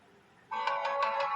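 A short electronic notification tone, the Samsung Galaxy M53 5G's Lunar ringtone, starts abruptly, pulsing in quick bright chimes after a moment of near silence.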